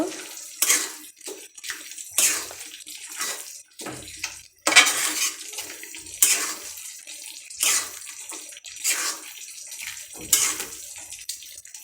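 Chickpea curry with chopped leaves stirred in a cooking pot gives repeated clanking spoon-on-metal scrapes and wet sloshing strokes in an uneven rhythm, close and fairly loud, with no talking.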